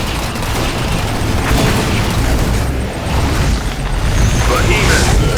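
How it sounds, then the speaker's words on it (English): An ion cannon strike in Command & Conquer 3: Kane's Wrath (Xbox version) lands as a loud, sustained, booming rumble laced with crackling bursts, with game voice lines mixed into the din. "Ion cannon activated."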